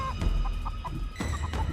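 Short, repeated clucks of a chicken inside a horror video game, several quick calls over a steady low background hum.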